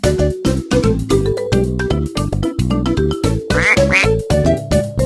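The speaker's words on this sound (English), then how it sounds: "Duck." Cartoon duck quacks from a children's animal-sounds game, a few short nasal calls rising above a bright, steady backing melody.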